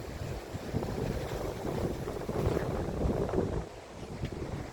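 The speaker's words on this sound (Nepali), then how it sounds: "समुद्रको छालाहरू छल्किरहेछन्" Sea waves wash and splash in uneven surges, mixed with gusty wind buffeting the microphone, swelling and easing over a few seconds.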